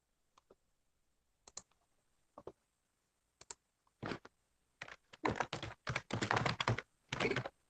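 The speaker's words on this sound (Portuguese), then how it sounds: "Alô, Alex, eu vou escrever teu nome aqui" Typing on a computer keyboard during an online class: sparse single key clicks at first, then a quick run of close, crisp keystrokes in a quiet room.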